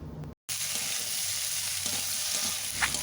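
Fried eggplant and gima greens are stir-fried in a hot pan, a loud, close, continuous sizzle with spatula scraping and stirring, broken by one very short silent gap near the start.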